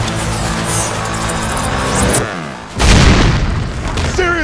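A frag grenade explodes in the Army of Two: The Devil's Cartel video game with a sharp, loud boom, set amid dense, layered game noise and music.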